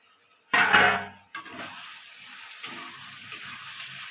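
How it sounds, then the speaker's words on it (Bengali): Potatoes fry in a pan on the way to a cauliflower, potato and rohu fish curry. A sharp burst of sizzling rings out as the lid comes off, then a quieter sizzle runs on with a few clinks of a utensil. "আলুটা ভালো করে ভাজা হয়ে গেছে"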